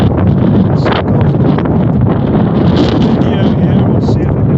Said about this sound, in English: it's blowing a gale here in Calgary, Alberta, where I live